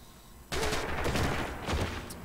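Rapid gunfire fills a multiplayer shooter match, with dense bursts of shots and automatic fire starting abruptly and continuing loud and steady without pause.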